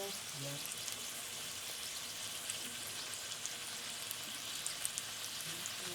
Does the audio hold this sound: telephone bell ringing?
no